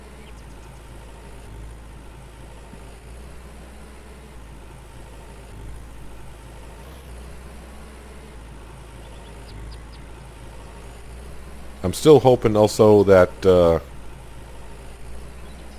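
In the Farmer's Dynasty farming game, a tractor engine holds a steady low idling drone throughout, fairly quiet, with someone speaking briefly over it near the end.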